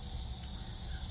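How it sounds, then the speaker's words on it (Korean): Cicadas drone from trees at the front gate of a Songnisan highway rest area, a steady high buzzing chorus over a low background hum, alone without voices. "매미가 우는 소리가 막 들립니다."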